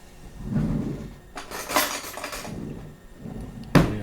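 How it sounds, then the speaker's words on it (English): A teaspoon pries a faulty lithium-ion cell out of an Arduino eight-slot charger and discharger tester, making a few light metallic clinks and rattles with a sharp click near the end. "Good old trusty teaspoon, pull it out."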